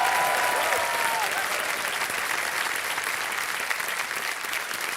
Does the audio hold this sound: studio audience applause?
yes